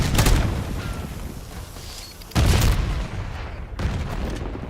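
Explosions go off in a video game as a grenade bursts in mid-air: a loud, close boom near the start, a second heavy blast mid-way and a smaller one after, each with a rumbling tail and no talking.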